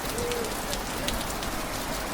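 Steady rain falls on a road in Sikkim, a dense, continuous hiss of drops close by with faint bird calls in the background.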